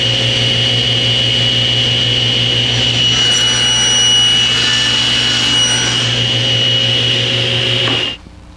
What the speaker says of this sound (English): Because I didn't quite cut all the way through the cherry, I'm going to need to raise the blade just a smidge.